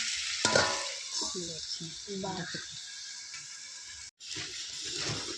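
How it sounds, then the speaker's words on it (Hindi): Masala spices fry in a pan while a meat curry is cooked, making a steady sizzle heard close up. Someone talks over it for much of the clip, with a short break near the end. "देखिए मसाला डाल दिया हूँ, और देखिए मसाला ये भून रही हूँ"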